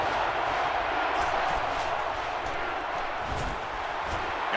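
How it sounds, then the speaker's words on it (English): Football stadium crowd at an Alabama vs Auburn game roars loudly and continuously after a sack, a dense sustained wall of cheering and shouting. "And this crowd is going crazy."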